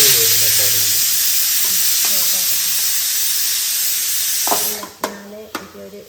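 Curry leaves dropped into a hot pan sizzle with a loud, steady hiss that fades toward the end. A person talks over the frying.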